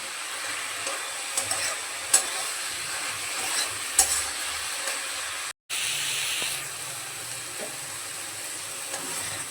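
Red spinach and onion fry in a pan until their released water cooks off, with a continuous close hissing sizzle and occasional stirring scrapes, briefly cut by a split-second gap.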